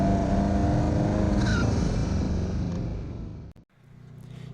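An Ariel Atom 4 blasts around the Anglesey coastal circuit, its engine screaming loud and close at high revs before a brief cut as the lap ends, then picking back up.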